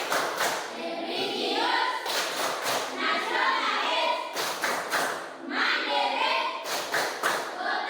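Children chant the Tepuk PPK in unison in a classroom, voices loud and close, broken by rhythmic bursts of sharp group hand claps between the spoken words.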